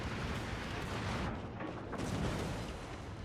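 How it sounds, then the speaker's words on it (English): Naval gun broadsides thunder in a warship video game battle, a dense, continuous roar of booming blasts and rumble that fills the short moment without any speech. "Smolensk is getting broadside."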